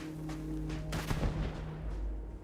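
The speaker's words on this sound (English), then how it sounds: "that's a grenade" A grenade blast in the space RPG Starfield thumps out in a single burst midway, set against steady game ambience and a low hum, then fades back to background noise.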